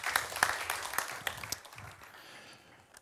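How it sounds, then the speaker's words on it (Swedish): Brief audience applause at a seminar on Scandinavian infrastructure, a short burst of scattered clapping from a modest crowd that peaks early and trails off within a few seconds, no talking. "Du får en liten applåd med dig ner på vägen."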